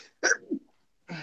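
A single quick, sharp sneeze, close and fairly quiet, followed by a brief pause and a short breathy sound.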